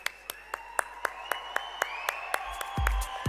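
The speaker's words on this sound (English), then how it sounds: "More of a wow, whistles, claps, applause." At a humanoid robot demonstration, audience members clap in a steady rhythm of sharp, separate claps while sliding whistle-like tones rise and fall over them. The claps run evenly, joined near the end by a low rumble.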